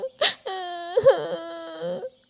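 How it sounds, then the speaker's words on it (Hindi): A young child cries and wails in drawn-out, close, loud sobs after a short sharp sniffle, calling out for his mother in tearful bursts. "उसके कानों में बच्चे के रोने की आवाजें आ रही थीं"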